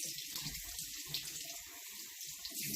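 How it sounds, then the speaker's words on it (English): Makeup brushes are rinsed under a running tap, a steady faint hiss of flowing water with soft uneven splashing beneath it. "And then just wash, rinse."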